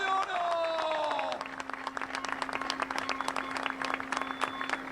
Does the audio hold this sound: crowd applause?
yes